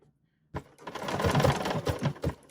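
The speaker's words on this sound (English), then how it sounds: "And then I'm going to stitch my little rampart stitch." BERNINA sewing machine fitted with an edgestitch foot runs a decorative rampart stitch after a moment of silence, a close, busy mechanical chatter with pulsing stitch rhythm throughout.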